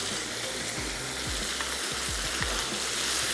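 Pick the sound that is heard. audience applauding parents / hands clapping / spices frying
spices frying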